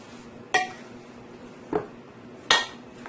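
Three sharp clinks of a utensil against a bowl while tuna fish cake mixture is stirred with peppers, onion and parsley, spaced apart over a quiet background.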